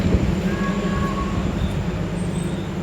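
A train power car generating electricity for the Rupashi Bangla Express gives a steady, loud rumbling drone with a low mechanical hum throughout, heard up close inside the moving train.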